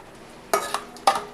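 Peanuts frying in a pan for semiya upma, two short close scraping stirs against the pan over a faint, steady sizzle.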